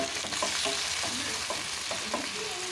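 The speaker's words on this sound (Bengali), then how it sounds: "এবার টমেটোটাকে ভালো করে ভাজতে থাকবো।" Chopped tomatoes fry in a pan over a tempering of spices, a continuous hiss of sizzling oil with soft scraping strokes of a spatula repeating every half second or so, close and without speech.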